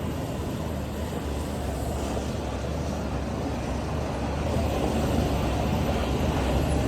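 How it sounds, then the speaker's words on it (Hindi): Steady low rumble of car tyres rolling over a gravel road, continuous and close, with no voices. "टायर की आवाज़ चेक करो एक बार"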